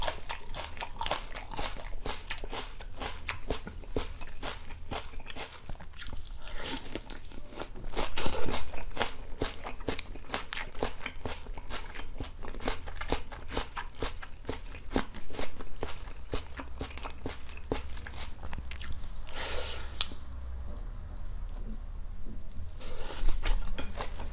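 Crispy Korean oyster pancake dipped in seasoned fried-chicken sauce is eaten close to the mic in a mukbang, with dense, continuous crunching and chewing bites throughout and no speech.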